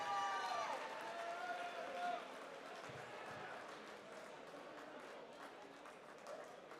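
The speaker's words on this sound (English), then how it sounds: "please keep the applause going for our silver medalist, Antonine's Caitlin Kelly" Sustained crowd applause fills an arena at the Boxing Scotland Elite Championships finals, honouring the silver medalist; a steady wash of clapping with a brief tonal whine early on, continuous and fairly loud throughout.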